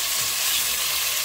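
Meat for a stew with potato dumplings fries in a pan with a loud, steady, hissing sizzle that runs throughout, close by and with no voices.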